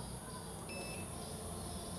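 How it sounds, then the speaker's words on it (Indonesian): Off-grid solar inverter in a small shop power setup gives a steady high electronic beep over a constant hum, with a couple of thin tonal tones standing out in the middle, no talk over it. "Ini buzzer bisa kita nonaktifkan juga."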